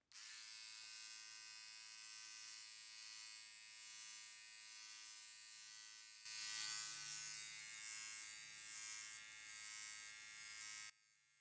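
An electric hair trimmer buzzes continuously and close during a haircut, humming steadily, then grows a little louder and harsher when it meets the hair, before cutting off.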